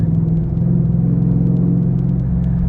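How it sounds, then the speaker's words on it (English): A Ford Raptor pickup's exhaust rumbles low and steady with a throbbing burble as it downshifts, close and fairly loud, with no talk. "this truck here is just, it's such a fun exhaust note"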